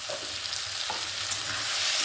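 Prawns are stirred in a frying pan with turmeric, giving a close, steady sizzle with soft scraping strokes of the spatula and no talking.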